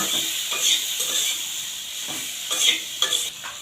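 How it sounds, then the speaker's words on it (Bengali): Cucumber and prawn curry is stirred in a pan, a close hissing sizzle broken by soft scraping strokes and a few light clinks of the utensil against the pan. "আমরা আবারও ভালো করে নাড়াচাড়া দিয়ে দিয়ে নিচ্ছি"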